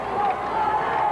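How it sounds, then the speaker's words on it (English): A crowd murmurs as a steady, dense wash of distant voices before the 1983 New Jersey state lacrosse championship game, Summit versus Columbia, outdoors, lasting about a second. "crowd's ready. You hear them in the background."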